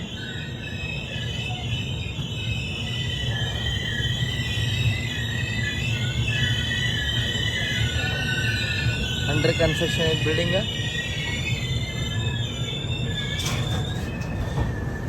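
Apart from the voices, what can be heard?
Chetak Express train running, wheels squealing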